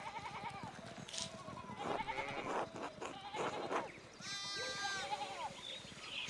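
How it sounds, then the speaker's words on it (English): Sheep in the medieval Pentiment game bleat several times, wavering calls set against a busy, murmuring farmyard ambience with a faint voice in the background. "One of the fence rails fell and the sheep started hopping it."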